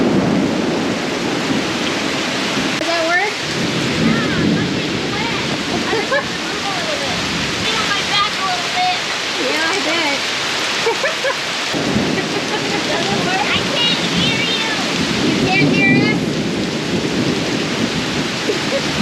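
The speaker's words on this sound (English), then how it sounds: "there was just pounding rain, pounding hard on my poor seedlings outside" Heavy rain pours down steadily, joined by rumbles of thunder, with a voice speaking over the downpour at times.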